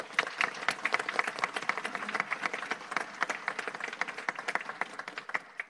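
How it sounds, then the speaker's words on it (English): Applause during a committee meeting after the color guard and national anthem, a lively patter of many hands clapping continuously and fairly close, with no speech over it. "Another applause for the color guard and the national anthem."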